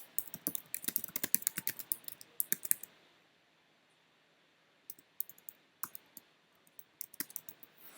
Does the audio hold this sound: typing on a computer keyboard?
yes